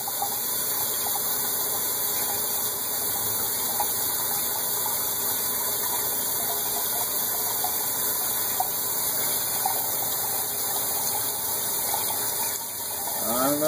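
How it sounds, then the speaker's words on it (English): Tap water runs steadily into a sink for the whole stretch, a constant close rushing wash with no talk over it. "Let's turn this water up a little faster."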